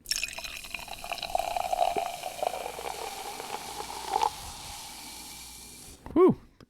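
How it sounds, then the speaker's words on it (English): Pineapple hard seltzer pours into a glass with a steady fizzing, trickling stream lasting several seconds, ending in a brief louder gulp-like splash. "I'm going to pour it into a glass, Kyle."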